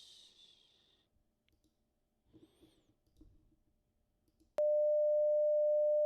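Steady sine-like tone from a wavetable synthesizer oscillator built in C++ with JUCE, switching on abruptly after faint clicks and handling noise and holding a constant pitch to the end.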